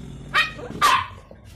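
A dog gives two sharp barks about half a second apart, fairly close, over a low background hum.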